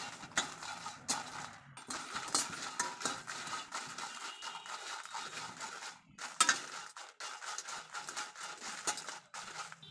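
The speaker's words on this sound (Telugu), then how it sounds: "అదే ప్యాన్లో ఎండుమిర్చి కూడా వేయించుకోవాలి ఇవి కూడా మాడిపోకుండా కలుపుకుంటూ ఫ్రై చేసుకోవాలి" Dried red chillies are stirred while dry-roasting in a pan for curry leaf powder, giving a busy run of close metallic scrapes, clinks and rattles from the spatula against the pan.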